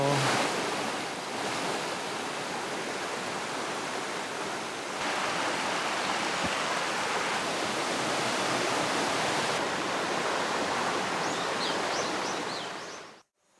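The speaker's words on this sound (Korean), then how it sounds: "물소리 발 담그고 싶다" Steady rushing water flows continuously, loud and broad like a mountain stream or cascade in Samcheok, Gangwon, South Korea, with faint bird chirps near the end and no voices.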